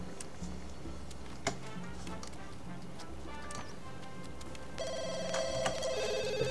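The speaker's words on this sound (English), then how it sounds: "The phone is ringing." A telephone rings inside The Sims 2 video game, a repeating electronic bell tone that grows clearer in the second half over a steady bed of game music and ambient effects.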